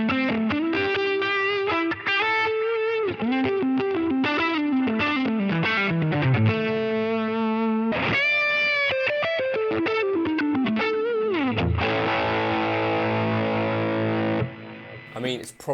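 Electric guitar through a high-gain distortion preset for a fusion tone, playing fast runs and bends followed by a sustained chord, loud and upfront with no talking.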